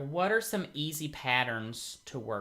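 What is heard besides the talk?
No everyday noise stands out behind the speech.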